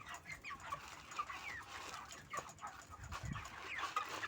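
Farm chickens being raised for weight gain cluck softly and intermittently in a coop, with short scattered calls and occasional louder squawks over a steady low background of rustling.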